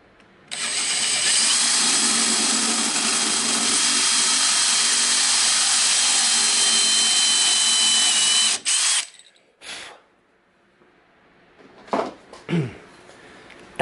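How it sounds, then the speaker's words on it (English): A power drill bores a hole into a wooden tabletop with a drill bit, running as one long, loud, steady whine for about eight seconds. Then it stops and a few short knocks and handling sounds follow, close by. "So I'm going to continue this hole with the drill bit."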